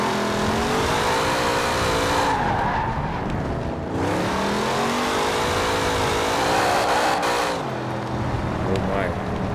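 A 1970 Chevrolet Chevelle SS muscle car revs hard, its engine note rising and falling through repeated acceleration pulls, with tire squeal and skidding as it slides, loud and close throughout.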